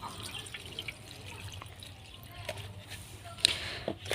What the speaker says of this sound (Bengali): এবার সর্ষে ফুলগুলো একবার ধুয়ে নেব ধোয়ার জন্য আমি দেখো সাজিটা নিয়েছি একটা বাটির উপরে